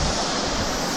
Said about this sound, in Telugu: ఇదైతుంది కుడియా వాటర్ ఫాల్.